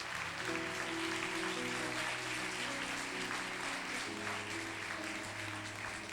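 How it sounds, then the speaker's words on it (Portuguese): Congregation applauding loudly during an evening church service, a dense, steady wash of clapping that fills the whole stretch with musical tones underneath. "aplauda Jesus bem forte nessa noite"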